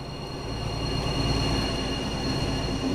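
BR 218 diesel locomotive in Train Sim World 5 rumbling past a small station on the Niddertalbahn, steady loud engine drone and rolling wheels with tonal whine, no talking.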